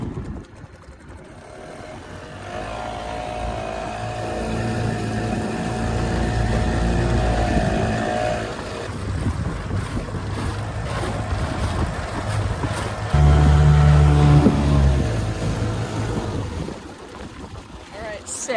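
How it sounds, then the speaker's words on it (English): An outboard boat motor runs and revs, a steady droning engine with rising and falling pitch, heard close with wind noise over the mic and brief talk in places. "this engine's been starting up and running pretty good, and it revs up really nice"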